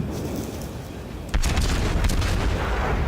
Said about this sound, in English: See how good my shots are? Am I good at firing?